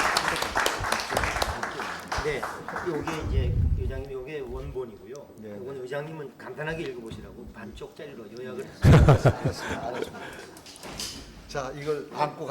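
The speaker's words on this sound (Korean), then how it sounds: "우리가 박수로 심차게 이렇게 격려를 해주시기 바랍니다" A burst of audience clapping at a university conference meeting with the National Assembly Speaker, partly under a speaking voice, then a single voice carries on talking, with another short flurry of sound later.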